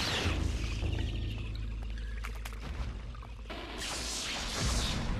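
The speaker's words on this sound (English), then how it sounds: "there's the sound of water running in case you can't hear it" Running river water in the video game Eternal Darkness, a continuous rushing pour with splashing bursts that swell near the end, mixed with game effects and no talking.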